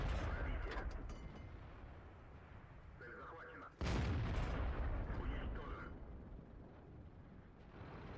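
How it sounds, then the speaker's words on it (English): In the World of Tanks game, a tank fires a high-explosive shell, heard as a sudden heavy boom midway that decays into a rumbling tail, with other distant muffled game explosions and noise around it. "I just can't resist shooting HE at this guy."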